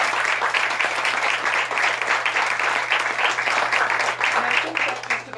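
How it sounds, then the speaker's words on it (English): An audience at a booklet launch gives a steady round of applause, dense and even clapping that fills the room from start to finish. "if anyone here deserves another round of applause"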